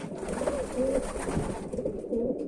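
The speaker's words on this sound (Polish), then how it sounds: "To jest ten biały gołąbek." White pigeon in an aviary cooing steadily and close by, soft repeated coos over a constant background hum, with no talk.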